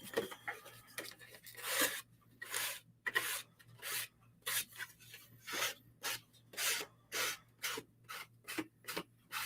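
Rhythmic rasping strokes of sandpaper rubbing back and forth, about a dozen evenly spaced passes, close and distinct with brief pauses between.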